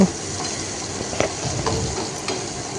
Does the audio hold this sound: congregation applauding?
no